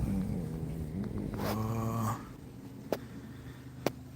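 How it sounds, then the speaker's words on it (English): A small puppy approaching on a dirt road near the ocean, giving a low, close growl with a rising whimpering whine, followed by two brief sharp sounds after a quieter pause. "There's a cute little puppy heading this way."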